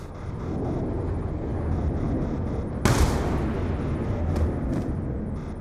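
A single sharp gunshot in Call of Duty Black Ops 2 cracks out mid-clip over a steady roar of background rumble and battle ambience, followed by a fainter second burst shortly after.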